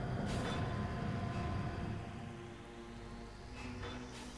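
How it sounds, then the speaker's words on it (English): Steady patter of rain on Tallon IV in Metroid Prime, a dense wash of noise with a low rumble underneath, constant throughout. "And great, it's raining."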